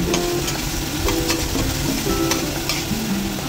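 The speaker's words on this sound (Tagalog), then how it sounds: "sa kawali, lagyan din natin ng oil and then fry natin yung ating garlic" Garlic frying in oil in a pan (kawali), a steady close sizzle with stirring scrapes and a few sharp clinks of the utensil against the pan.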